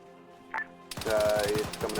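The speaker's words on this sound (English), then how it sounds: "I hear shooting to my left and right" Arma 3 gunfire in a Soviet-Afghan campaign battle: a brief faint pop, then a fast, close rattle of automatic fire with reverberant tails.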